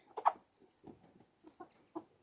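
Several chickens cluck softly in short, scattered bursts, close by and quiet, with small pauses between the calls.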